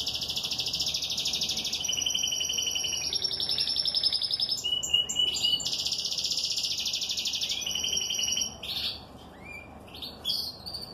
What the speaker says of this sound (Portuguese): Vamos acompanhar um pouquinho comigo aqui esse pássaro cantando aqui, ó.